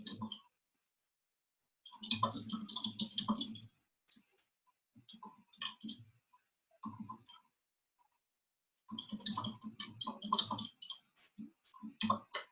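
Rapid bursts of clicking keys on a computer keyboard while typing a post, close and crisp, in several clusters separated by silent pauses.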